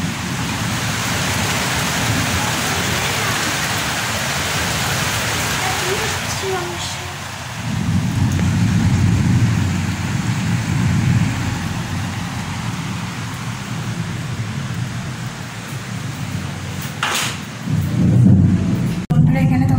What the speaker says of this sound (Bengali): এখানে তোমরা এখন দেখতে পেলে প্রচুর পরিমাণে বৃষ্টি হচ্ছে, তার সাথে বজ্রপাত হচ্ছে